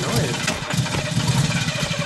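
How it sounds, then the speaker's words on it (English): A car engine runs steadily in the video game Friday the 13th: The Game, a dense, continuous mid-pitched rumble with no other sound on top. "It's her engine."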